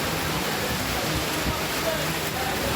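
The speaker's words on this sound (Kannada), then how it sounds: "ಇಂದು ರಾತ್ರಿ ಬೆಂಗಳೂರಿನ ವಿವಿಧ ಭಾಗಗಳಲ್ಲಿ ಭಾರೀ ಮಳೆ ಸುರಿಯುತ್ತಿದೆ" Heavy nighttime rain across parts of Bengaluru, a dense, steady broadband wash of downpour holding constant for a few seconds, with some faint low background sound beneath.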